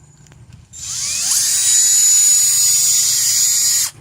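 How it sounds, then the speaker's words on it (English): A car headlight being polished with a power polisher that starts abruptly into a loud, high-pitched whirring whine, holds steady for about three seconds, then cuts off. "I'm gonna apply on this one little by little and start polishing."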